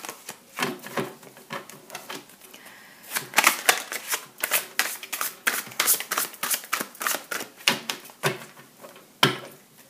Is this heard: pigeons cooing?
no